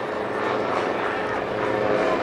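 Morane propeller aircraft flying in formation over an airshow runway in Mielec, a steady broad engine roar filling the whole clip, with a voice talking over it.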